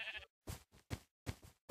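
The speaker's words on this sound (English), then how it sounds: "And guess what I got? Sheep!" Sheep in the Minecraft video game give a quick run of short, clipped bleats in close succession, loud and near, with no talking over them.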